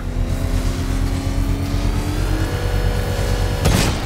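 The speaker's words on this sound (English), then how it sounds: "Alright, rev it, rev it." A car engine in Batman: Arkham Knight revs steadily with a rising tone, then a brief burst at the end. It stays loud and continuous, with no talk.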